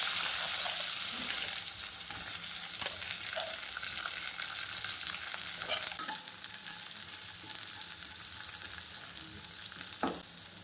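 Raw mango slices go into hot oil with fried fenugreek, cumin and mustard seeds for a sweet-and-sour methamba, a continuous close sizzle with a few light scrapes and clinks as the pieces are stirred.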